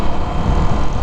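A 2022 Indian FTR S motorcycle fitted with a 2-into-1-into-2 Akrapovic full exhaust rumbles steadily on a ride, a dense low engine drone mixed with wind rush for a brief moment, with no talk.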